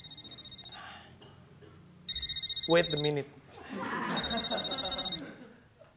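A telephone rings in two repeated bursts of bright electronic trilling, with a person speaking and a brief laugh between the rings and a voice talking over the second burst.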